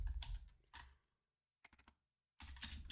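Fingers tap a computer keyboard in quick bursts of clicks, separated by pauses, close and clear with no voices.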